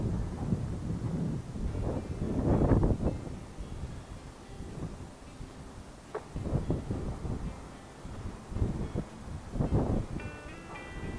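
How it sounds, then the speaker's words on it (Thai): Strong wind gusts batter the microphone on top of a hill at a temple, coming in heavy, rumbling bursts with calmer stretches between them. "ลมแรงทีเดียวนะครับ"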